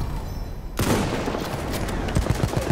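Sustained machine gun fire erupts suddenly in Battlefield 1 after a quieter stretch, a loud dense burst of rapid shots with heavier individual reports punching through toward the end.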